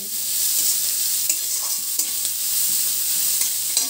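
Onions fry in a small amount of oil with a steady hissing sizzle while a spoon stirs them, giving occasional scraping clicks against the pan.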